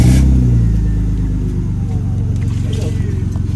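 A BMW E36 engine with a newly installed exhaust that has a leak revs loudly up close, a deep rumbling drone with pulsing throb throughout, and a voice talks briefly over it.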